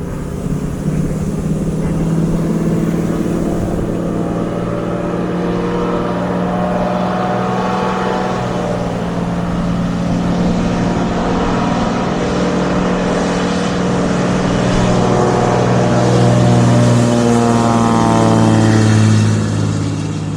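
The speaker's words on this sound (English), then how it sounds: "plane comes taxiing down the river while we're moose hunting" A floatplane taxis down a river during a moose hunt, its engine droning loudly and continuously for about twenty seconds, with the pitch shifting and rising toward the end, and no voices over it.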